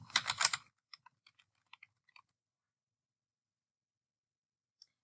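A brief burst of typing on a computer keyboard, a fast cluster of clacks followed by a few scattered single key taps, close and quiet, then silence.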